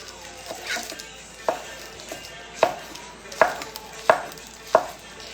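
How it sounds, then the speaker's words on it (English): A knife chops green onions on a cutting board in six or seven sharp, evenly spaced knocks, close and fairly quiet, with no talking. "So I'm just going to start chopping some things up."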